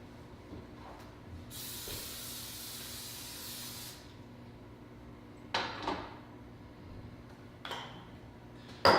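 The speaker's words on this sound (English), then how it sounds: "So what I'm using is Pam cooking spray." Pam cooking spray hisses onto a pan in one sustained close burst lasting a couple of seconds, followed by a few light kitchen knocks and clatters in an otherwise quiet room.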